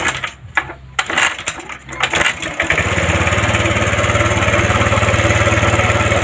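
Motorcycle with an ignition fault being kick-started, a few clunking kicks and rattles before the engine catches and settles into a steady, even idle putter, close by and with no speech.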